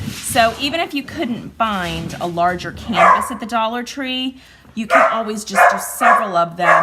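Dogs barking and yipping indoors in several sharp bursts, heard alongside someone talking steadily over them.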